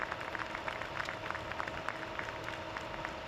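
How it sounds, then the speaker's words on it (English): A crowd at a boys' varsity playoff soccer match between Billerica and North Andover claps steadily and faintly from a distance as an injured player is carried off, the scattered claps forming a continuous ripple of applause. "we hear the applause as the injured player is taken off the stretcher right now"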